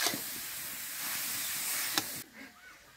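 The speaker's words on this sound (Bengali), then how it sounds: "গাজরগুলো ভালো করে ভেজে নেব।" Grated carrots frying in ghee give a steady, soft hissing sizzle with a brief clatter near the end, then the sound drops away sharply to a quiet background.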